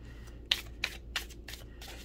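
Oracle cards are shuffled by hand in a series of quick, evenly spaced riffling bursts, close and soft over a faint low background hum.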